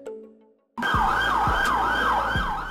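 A police car siren starts suddenly after a quiet moment and wails in a loud, continuous rising-and-falling cycle, close and alone.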